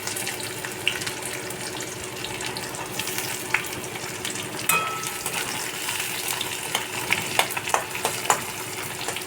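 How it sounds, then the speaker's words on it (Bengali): Chopped onions fry in a pan for a soya recipe, giving a continuous soft sizzle with occasional close stirring clicks and scrapes. No one speaks. "পেঁয়াজটাও হালকা ভাজা হবে"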